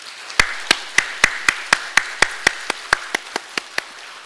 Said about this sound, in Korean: 우리 여러분 다 같이 박수로 그렇게 화답해 주시기 바랍니다.